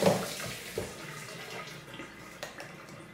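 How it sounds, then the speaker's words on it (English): Water running and splashing as soaked ingredients are rinsed in a strainer while making a basic cheesecake filling, a steady close wash of flow with a few small splashes and drips. "so we pour it into the strainer and now we're rinsing it"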